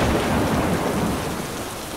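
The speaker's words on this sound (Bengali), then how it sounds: "ঝড় থেমে গেলেও বৃষ্টি থামছে না" A steady, heavy downpour roars without pause, dense rain hissing and drumming on surfaces, loud and close.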